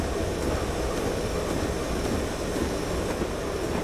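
Class 121 Bubble Car diesel railcar braking in a train simulator game, a steady, loud rumble of rolling train noise with broadband hiss filling the whole stretch, no talk.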